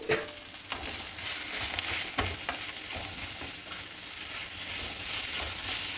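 Spices for a tempering with turmeric powder and salt sizzle in hot oil in a pan, a steady close crackling hiss broken by repeated scrapes and knocks of a spoon mixing everything together, with no talking.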